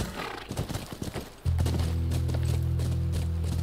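Horse hooves clip-clopping in the video game The Last of Us, a run of quick hoofbeats with snorts and whinnies, joined by a steady low rumbling tone of game ambience or music partway through.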